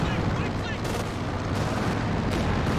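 A Katyusha rocket barrage in Company of Heroes 2 rumbles through a continuous, dense roar of explosions and launches, loud and sustained, with a commentator's voice faintly over the din.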